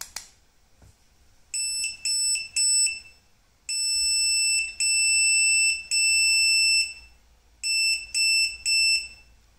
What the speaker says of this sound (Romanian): buzzerul și LED-ul vor avea un comportament care să transmită acest mesaj